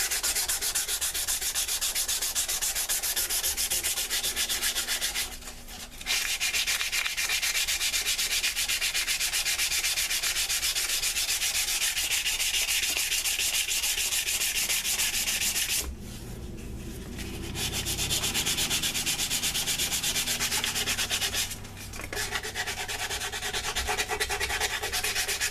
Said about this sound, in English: Now we're just going to do some hand sanding.